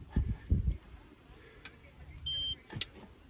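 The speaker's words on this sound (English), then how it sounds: "hold your fingerprint, you'll hear it go click." The fingerprint lock on a TuoJue center console safe, fitted in a 2023-2024 Chevrolet Silverado or GMC Sierra 1500 cab, gives a short electronic beep and a few small sharp clicks after some low handling thumps.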